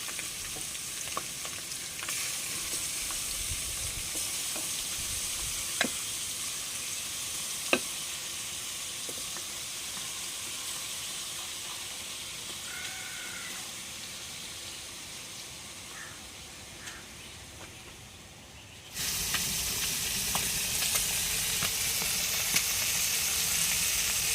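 Fish frying in hot coconut oil, a continuous close crackling sizzle with occasional sharp pops, growing louder toward the end, no voices.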